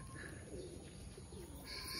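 Birds gather to feed in the early morning, heard as faint cooing and scattered chirps against a steady wash of outdoor background noise.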